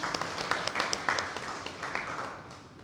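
An audience claps in a hall at a Gujarati book-talk event, a steady spread of applause at moderate distance that slowly fades, with no speech over it.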